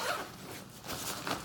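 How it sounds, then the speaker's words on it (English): A zipper closes on a packed diaper bag in a few quick close rasping pulls, quiet and on its own. "I will just zip it up."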